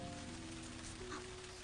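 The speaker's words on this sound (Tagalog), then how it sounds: "umuulan na." Rain falls steadily as a soft, even patter on a surface, faint and continuous, with a low tonal hum running underneath.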